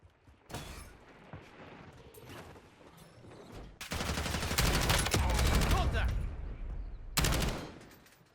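Automatic gunfire rattles in long, dense bursts during a Call of Duty Warzone match, loud and close, with a few quieter shots before and a final burst near the end.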